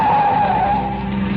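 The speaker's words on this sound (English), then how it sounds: "In my ears was the screeching of brakes, of tires taking a wild curve." A radio-drama effect of brakes and tires screeching around a curve: one loud, sustained squeal that holds for the whole brief moment, close and with no voices.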